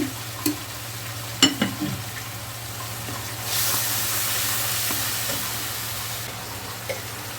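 Green chilli and spices frying in hot oil for tempering a pabda fish curry, a soft continuous sizzle over a low steady hum, with a few sharp utensil clicks and a brief louder hiss midway.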